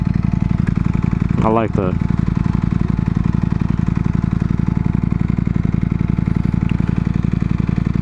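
A superbike engine thrums steadily at idle from up close, with a brief spoken remark over it.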